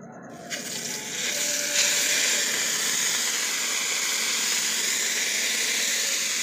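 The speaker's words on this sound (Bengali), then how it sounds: "মাছগুলো আমরা এবার সুন্দর করে ভেজে নেব।" Fish dropped into hot oil in a wok, a loud, steady hiss of frying that rises sharply after the first second and stays continuous and close.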